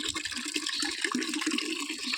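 Water pours into a plastic tub used for composting vegetable scraps, a steady close splashing and gurgling stream that runs for about two seconds with no voices.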